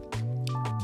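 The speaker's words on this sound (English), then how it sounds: "I just wanna run them through some water and through the paints one good time" A paintbrush swished and dipped in water while testing illustration supplies, giving a short wet squishing drip with a steady tonal hum underneath.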